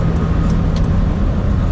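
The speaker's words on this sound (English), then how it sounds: "So I'm just going to kind of drive around Houston" A car driving through flooded Houston streets after Hurricane Harvey gives a steady, close low rumble of engine and road noise that runs unbroken, with no talking.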